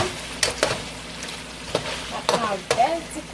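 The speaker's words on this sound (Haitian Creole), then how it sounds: "On a bien frit." Chicken frying in a tomato sauce in a pan makes a continuous sizzle, broken by a few sharp crackles and stirring clatters of the utensil against the pan.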